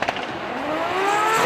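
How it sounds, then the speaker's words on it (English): Formula Drift Japan cars pull off the start line together, their engines rising in a loud, climbing roar with a faint crackle over about a second and a half. "both of the vehicles leaves the start line"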